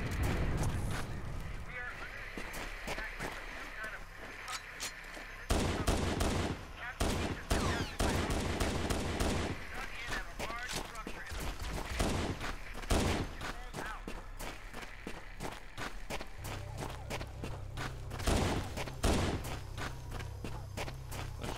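Repeated close shotgun blasts in a Halo mod battling the Flood inside a facility, irregular sharp shots scattered throughout with footsteps and ambient game noise between, and a voice talking at times.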